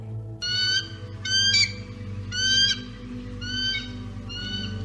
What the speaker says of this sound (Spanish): se oyó el grito del águila que nuestro amigo había curado